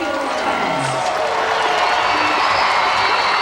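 Stadium crowd at a Canada versus Brazil friendly football match reacting to a foul, a dense loud roar of many voices with scattered whistles and shouts, continuous throughout.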